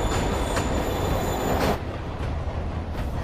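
A train in the Spider-Man PS4 video game rumbles loudly and continuously, with metallic wheel squeal and faint clatter; the roar eases slightly partway through but keeps going.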